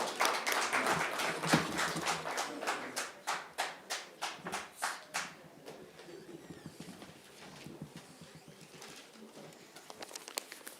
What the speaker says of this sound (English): A round of applause for Mr. Goilik, please.